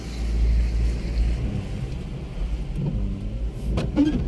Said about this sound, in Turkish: Şimdi gidebiliriz. Bol gaz devreci yavaş yavaş.